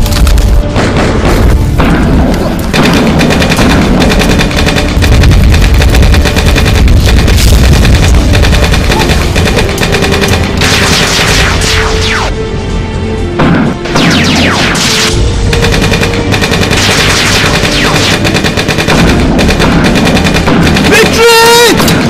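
Gunfire in a Nigerian movie scene, loud booming shots and bursts of rapid fire mixed with crashes and shouting voices over a dense action soundtrack, continuous and close throughout.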